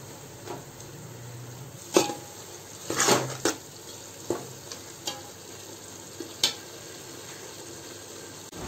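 Mutton, green chillies, mint and coriander leaves are mixed in a pot for Karaikal mutton biryani, with a soft simmering sizzle punctuated by scattered scrapes and clatters of a spoon, no voices present.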